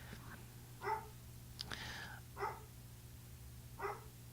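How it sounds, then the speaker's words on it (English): Dogs bark in a room, three short muffled barks spaced about a second and a half apart, somewhat distant and moderately loud, with a brief clatter between them. "My dogs are going crazy."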